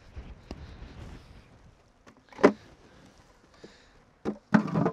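Wind buffets a microphone outdoors beside a beehive being worked, a low rumbling roar for the first seconds and then sharp gusty bursts near the middle and end, with no talking.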